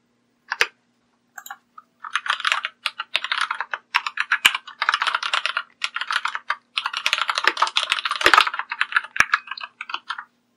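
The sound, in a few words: typing code on a computer keyboard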